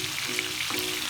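Chicken pieces for biryani fry in a pan, a brief, even, close sizzle with a soft hissing crackle and no voices.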